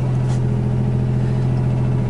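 The rebuilt engine of a 1986 Buick Grand National runs at a steady idle, a close, constant, even hum with a low drone that keeps going throughout, with no talking.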